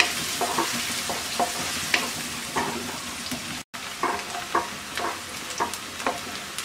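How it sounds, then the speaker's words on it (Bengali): Chopped onions, two medium ones, fry lightly in a pan for a Bengali potato and spinach dish, with a steady sizzle broken by repeated scraping stirs at an irregular rhythm, close and alone. "পেঁয়াজটাকে হালকা ভেজে নেব।"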